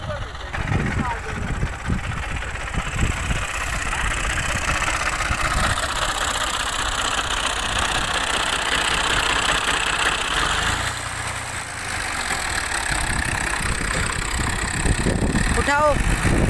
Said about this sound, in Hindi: अल गाजी ट्रैक्टर है जो कि हल, ये देखें हल मार रहा है।